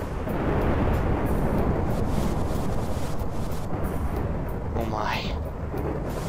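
Lightning bolts fired from the flying ring in Tekkit, a Minecraft modpack, make a loud, sustained rumbling roar that fills the whole stretch, with a person exclaiming briefly near the end.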